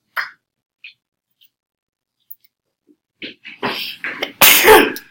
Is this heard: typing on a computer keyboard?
no